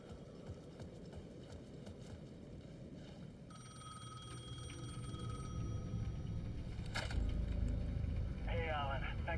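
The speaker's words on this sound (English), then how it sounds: "The payphone at the edge of the plaza was ringing again." A payphone rings at the edge of a plaza in Alan Wake 2, its bell pulsing in short bursts near the end over a dense, rumbling game ambience.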